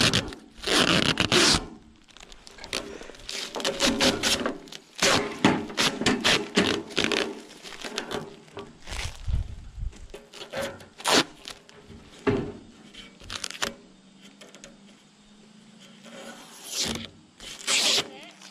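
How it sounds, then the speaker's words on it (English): Protective plastic film is torn and peeled off a metal ridge cap for a firewood shed roof, giving repeated loud ripping and crackling bursts with pauses between pulls, up close and with no talking. "This stuff's always fun because we gotta take the plastic off of it."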